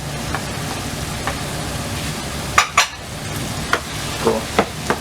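Shrimp fried rice with beans, peas, corn and capsicum stirred in a pan, with a spatula scraping in a loose repeating rhythm over a steady, close sizzle.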